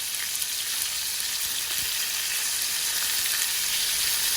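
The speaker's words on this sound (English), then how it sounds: "Continue sauteing this for about 3 minutes or until the tomatoes become soft" Tomatoes, onion and garlic sauté in a pan with a dense, even hiss of sizzling oil that holds steady throughout, close and fairly loud, with no voices.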